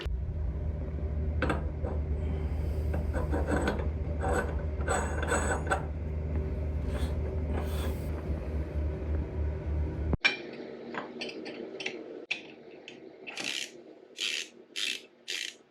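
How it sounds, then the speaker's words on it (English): Knobs are fitted onto a shower tub faucet, with close metallic clicking, ratcheting and rubbing, then a sharp clack followed by quieter scattered taps and a few short scraping bursts; no talking. "Now I just need to put the knobs on."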